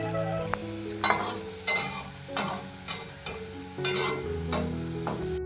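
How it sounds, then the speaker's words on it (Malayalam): Steady frying sizzle of onions in a pan over low to medium flame, with repeated scraping and stirring strokes at an even rhythm, close and moderately loud. "ലോ ടു മീഡിയം ഫ്ലെയിമിൽ വെച്ച് വേണം നമുക്ക് ഈ സവോള ഒന്ന് വറുത്തെടുക്കാൻ"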